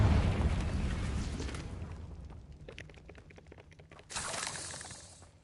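A Confringo blasting spell explosion in Hogwarts Legacy, a heavy booming burst that rumbles and fades over a couple of seconds, followed by a second sharp crackling blast near the end.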